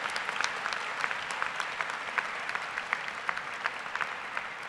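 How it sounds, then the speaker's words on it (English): Applause at a high school graduation ceremony, a moderate, even patter of many hands clapping in a large space, with sharper individual claps standing out and no voices heard over it. "a well-deserved round of applause"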